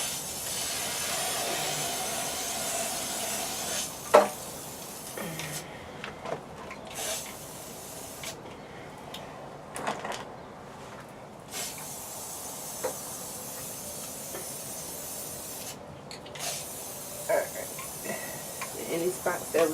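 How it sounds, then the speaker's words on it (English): An aerosol spray can hisses in bursts while coating the inside of a bar cart, with short sprays separated by pauses and clicks, while someone talks at times. "So this time we're spraying inside."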